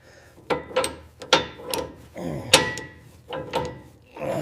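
Ratchet snugging the wheel lug nuts on a 1960s Mini Cooper S, heard as several close, separate bursts of clicking and ratcheting with short pauses between them.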